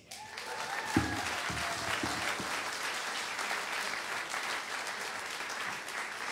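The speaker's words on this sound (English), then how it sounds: "So give yourselves a round of applause." A concert audience at a holiday jam gives sustained, even applause throughout. Dense, moderately loud clapping from a large room carries a few sharper claps near the start.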